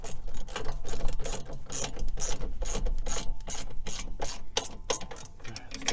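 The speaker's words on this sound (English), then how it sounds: "Put that ratchet back on tight" A ratchet tightens a bolt on a 2017 GMC Sierra leveling kit, giving a rapid, rhythmic run of close metallic clicks in repeated strokes, loud and steady throughout with no talk.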